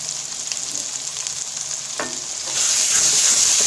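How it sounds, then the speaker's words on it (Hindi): Ground coriander and garam masala roast in a pan for mixed vegetable sabzi, a steady close sizzle that swells louder in the second half, with a faint scrape or stir near the middle. "मसालों को अच्छी तरह से हम भून लेते हैं"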